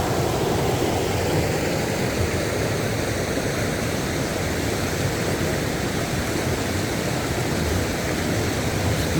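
A waterfall in Michigan's Upper Peninsula rushes in a steady, dense roar that holds unbroken throughout, with no voices.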